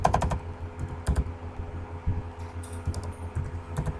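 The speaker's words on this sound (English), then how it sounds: "Type here another message" Keys clacking on a computer keyboard while a message is typed, quick irregular bursts of taps close up with a steady low hum beneath.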